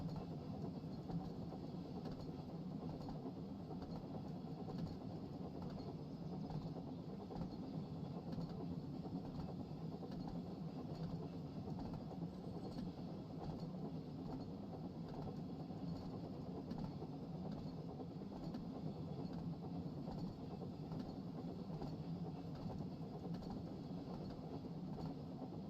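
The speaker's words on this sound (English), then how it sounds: "we just drive down the branch line with no train, just the engine." Locomotive engine running alone without cars down a branch line in the Wonders of Sodor video game, a steady, quiet low mechanical rumble that stays constant throughout with no talking.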